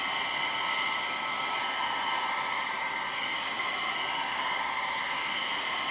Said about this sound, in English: can you guys hear me over the hair dryer?